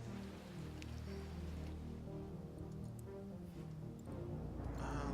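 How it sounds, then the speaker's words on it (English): Rain falls in the city-building game SimCity, a soft, steady patter and hiss that holds evenly throughout at low volume. "And it's raining."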